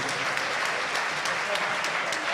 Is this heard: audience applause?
yes